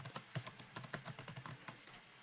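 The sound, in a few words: typing on a computer keyboard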